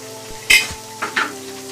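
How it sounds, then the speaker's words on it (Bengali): A spiced chicken roast sizzles as it browns in a pan on the stove, with a few quick clinks of pots or a utensil over a low steady hum. "একটা চুলায় যে আমি চিকেনের রোস্টটা ফ্রাই করার জন্য দিয়েছিলাম সেটা এক পাশ ব্রাউন করে ভাজা হয়ে গেছে"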